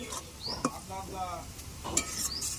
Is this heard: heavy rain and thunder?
no